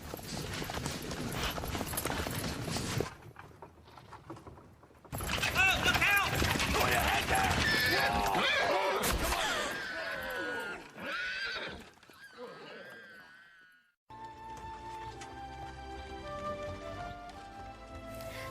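Horse in a period countryside drama scene, with galloping clip-clop hooves, a sharp whinny and a loud crash-like burst of commotion, followed by quieter musical score.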